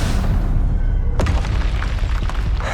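Confringo blasting spell exploding in Hogwarts Legacy video game combat: a loud, sustained booming rumble broken by one sharp blast burst partway through, followed by a rolling crackle of debris.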